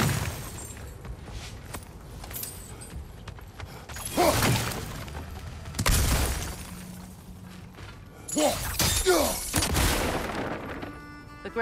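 Fuel barrels blow up in God of War Ragnarök. Several loud bursts and crashing blasts come a few seconds apart, with clattering debris and some game effects between them.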